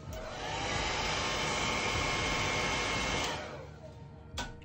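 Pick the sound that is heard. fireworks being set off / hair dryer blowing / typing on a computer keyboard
hair dryer blowing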